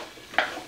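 Mixed vegetable curry heating in a pan, a soft stir or brief sizzle rising once over a quiet kitchen background.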